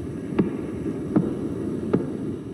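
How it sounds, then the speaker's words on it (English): A pulsar in the Giraffe constellation turned into sound: three evenly spaced soft thumps about two-thirds of a second apart over a steady low hiss and hum. "The pulsar that we're going to hear, which is in the Giraffe constellation, spins around every 2/3 of a second."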